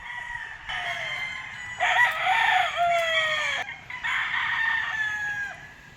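A white Kelso gamefowl bull stag at a gamefarm crows loudly and close, several overlapping crows following one another. Softer clucking mixes in, with no talking.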